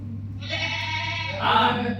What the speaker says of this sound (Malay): Bunyi apa tu? Kambing.